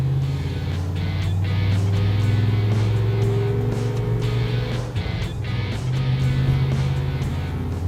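A 1968 Chevrolet C10 truck with a 5.3 LS engine and Tremec TKX manual gearbox drones steadily from inside the cab while driving, a loud low engine hum with a pitch shift midway as it changes gear.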